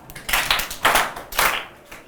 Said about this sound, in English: Can you clap her?